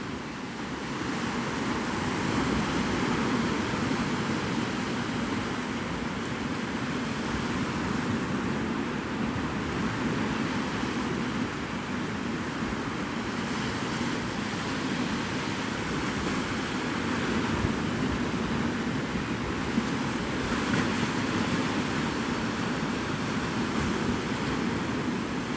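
Surf rolls steadily onto Navarre Beach, Florida at sunrise, a constant loud wash of breaking waves mixed with wind buffeting the microphone, with no voices.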